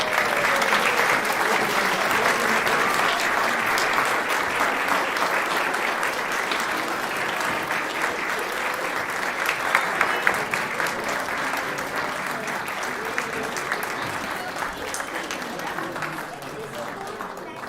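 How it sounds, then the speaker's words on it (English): Congregation applauding children at a Unitarian Universalist flower communion service, steady dense clapping that holds loud and even for the whole stretch, easing slightly near the end. "I invite you to welcome them and applaud for them"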